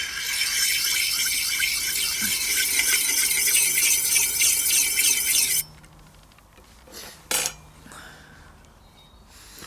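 Tool blade being sharpened on a sharpening stone, a rapid run of rhythmic gritty scraping strokes that stops partway, followed by a few isolated clinks and rubs in a quiet room.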